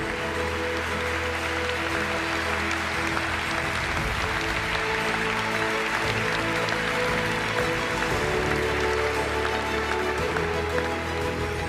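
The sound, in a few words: applause for award winners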